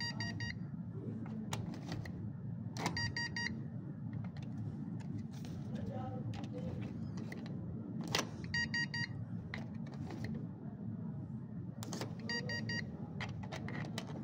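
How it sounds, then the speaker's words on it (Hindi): Quiet hotel room ambience with low hum as a key card is inserted into a door lock, marked by several bright electronic beeps at intervals and faint clicks and handling noises. "आप ऐसे कार्ड को डालें।"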